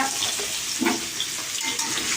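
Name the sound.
potatoes frying in a pan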